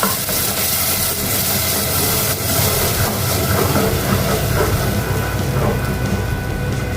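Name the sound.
spice paste poured into hot oil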